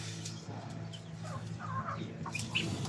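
Chickens cluck in short irregular bursts over a steady low background hum, fairly near and moderately loud, with no voices.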